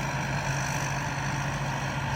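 Diesel engine of a rice combine harvester (Kubota-type, model 84) running steadily in a paddy field, a continuous loud drone with a low hum and broadband mechanical noise throughout, with no talk.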